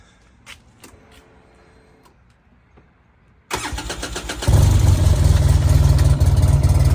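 A quiet room with a few small clicks, then a Polaris RZR 800 utility vehicle's engine cranks and fires, quickly settling into a loud, steady, throbbing run.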